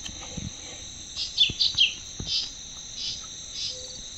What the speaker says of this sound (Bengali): সুন্দর পাখির ডাক শোনা যাচ্ছে